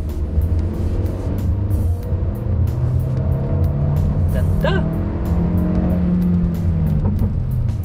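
A 2023 Hyundai Custin MPV with a 1.5 liter turbo engine accelerating in sport mode, a moderate engine hum rising under steady road noise, while a person talks briefly over it.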